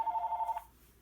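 A telephone rings once in a home craft room, a steady electronic tone lasting about half a second and then stopping, fairly quiet and heard alone.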